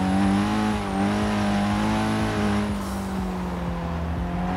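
A car engine from the racing game Forza Horizon 3 holds a loud, steady drone near and constant, its pitch easing slightly partway through, with no one talking.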